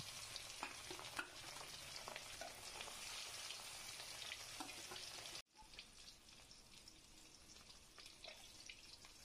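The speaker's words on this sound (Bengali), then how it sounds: "এবার মাছগুলোকে আমি উল্টিয়ে পাল্টিয়ে ভালো করে ভেজে নেব।" Pieces of catla fish fry in hot oil with a steady, dense sizzle and crackle; partway through the level drops suddenly, then frying continues more softly with scattered pops.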